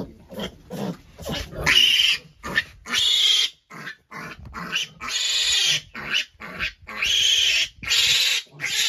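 Fourteen-day-old piglets squeal loudly and shrilly while getting vitamin injections, in a rapid string of piercing cries broken by short breaths and low grunts.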